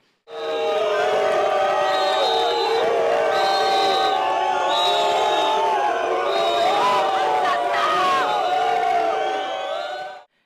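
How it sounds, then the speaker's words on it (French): Large street crowd in France on 14 July shouting, booing and whistling at the president passing in a command car, a sustained loud roar of voices with shrill whistles throughout. "Des cris, des huées et des sifflets ont rythmé son passage."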